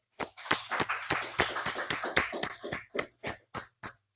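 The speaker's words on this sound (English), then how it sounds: "let's give it one last round of applause for Dave Pallmann." A short burst of applause from a small audience, irregular claps that thin out into a few scattered final claps.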